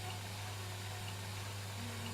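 Water steadily fills a bathtub in the video game My Summer Car, a constant low rushing flow that runs on alone without a break.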